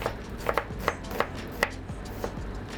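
Knife slicing an onion into thin slices on a cutting board, a series of crisp, evenly spaced chops, close and moderately quiet, with no talking.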